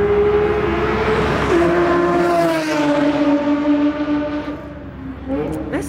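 A Nissan 350Z passes on the Tsukuba circuit, a loud engine note that holds and then drops in pitch as the car goes by, with a faint voice under it near the end.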